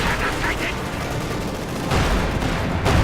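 Gunfire fills a Company of Heroes 2 battle as Soviet penal troops and combat engineers fight Panzer Grenadiers, bursts of rifle and machine-gun fire rattling continuously, with heavier booms joining near the end and a commentator's voice under the noise.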